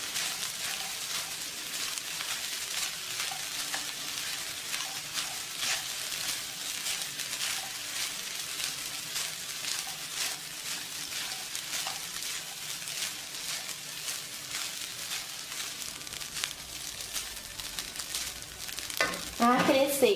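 Rice for arroz biro biro fries in a pan, making a continuous soft sizzle with repeated stirring scrapes and clicks. Louder handling noises come near the end.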